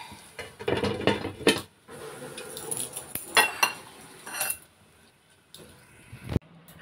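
A metal lid is set onto a cooking pot, clattering and clinking in several sharp, close knocks and scrapes, ending with one firm clank.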